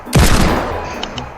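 A sudden loud burst of gunfire in a video game, a booming blast with rapid crackling that decays over about a second, followed by two faint clicks.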